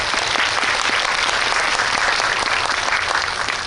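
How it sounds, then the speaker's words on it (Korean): An audience at a Korean film talk event in a cinema auditorium breaks into loud, sustained applause, a dense even wash of clapping from many hands with no voices over it. "박수 부탁드립니다."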